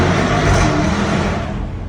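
A loud 1000-horsepower car engine roars steadily, rising slightly in pitch as it revs, then eases off toward the end.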